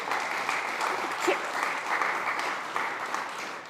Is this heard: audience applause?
yes